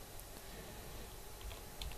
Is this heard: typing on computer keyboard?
yes